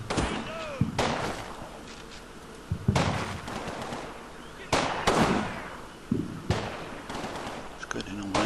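Video game gunfire from Combat Mission Battle for Normandy: repeated bursts of shots in several loud clusters over a constant battlefield rumble, with occasional faint background noises between volleys.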